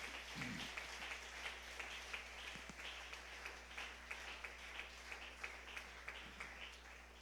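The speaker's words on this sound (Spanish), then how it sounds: "Fuerte ese aplauso al Señor" A church congregation gives a faint, distant round of applause throughout, steady and diffuse under a low constant hum, with a few soft thumps and no clear voices.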